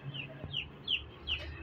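Two-day-old broiler chicks in a winter brooder give about four short, high cheeping calls in quick succession. They sound close against a soft, low background.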